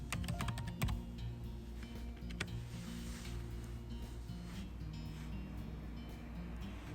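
Typing on a computer keyboard, with a quick burst of clattering keystrokes at the start followed by sparser, softer taps, faint and close, with a low background hum.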